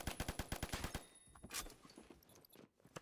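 An M60 light machine gun fires in the video game Phantom Forces, a rapid burst of about ten evenly spaced, punchy shots followed by scattered distant gunfire.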